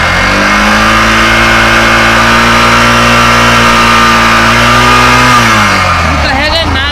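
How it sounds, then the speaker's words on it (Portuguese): A FACTO 150 motorcycle with a noisy engine is revved hard and held at high, droning revs before dropping back toward idle near the end. It sounds loud and close. "Posso acelerar?"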